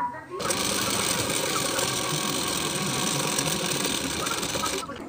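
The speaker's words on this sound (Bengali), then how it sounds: "দেখুন এইভাবে পটিটির উপর সেলাই দিয়ে নিয়েছি" A sewing machine runs one continuous stretch of stitching along a blouse strip. Its dense, even mechanical whir starts abruptly and stops just before the end.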